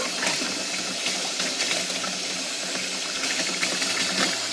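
Water streams steadily into the drum of a Panda portable washing machine, a continuous close splashing rush with no talk over it.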